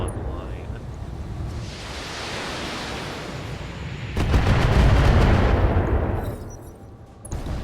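Turret gunfire from a BattleTech mech battle, a continuous roar of noisy rumbling that surges loud and dense midway through, with rapid repeated bursts, then eases off before picking up again.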